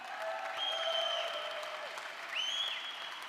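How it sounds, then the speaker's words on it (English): Crowd applause at the Vulcan Indoor National Championships in pickleball, a soft, fairly distant patter of clapping in a large indoor hall, with a couple of sustained electronic tones ringing over it. "Give them a round of applause, guys."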